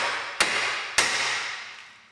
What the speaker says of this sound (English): I'm going to whack this piece of the hub so I can break the taper on the bottom ball